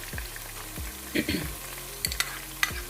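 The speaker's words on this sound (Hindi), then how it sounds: "ये देखिए प्याज को हमने भून लिया है।" Onions frying in a pan for Punjabi-style sarson ka saag give a steady sizzle, broken by a few sharp clinks and scrapes of stirring.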